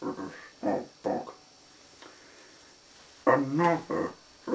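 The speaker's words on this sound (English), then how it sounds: "Another of a small dog." A small dog gives a few short, moderately loud barks in separate bursts, with quiet pauses between them.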